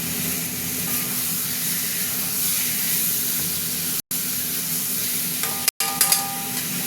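Green chillies and garam masala sauté over lowered gas heat in a pan for a spicy red egg curry, giving a steady close sizzle and hiss with brief stirring clicks and no talking.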